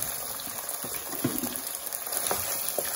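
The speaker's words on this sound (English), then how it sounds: "So I like frying my meat with this particular oil." Meat fries in oil for Nigerian Ofada stew, a steady bubbling sizzle with small pops, continuous and close, with no talk over it.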